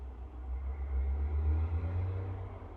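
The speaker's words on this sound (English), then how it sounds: "And a loud truck goes by." A heavy truck passes nearby, its deep engine rumble swelling and fading over a few seconds, low and steady with no voices over it.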